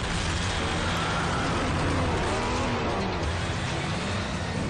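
A car engine roars at high revs, loud and unbroken, a harsh continuous drone filling the whole stretch with no quiet gaps.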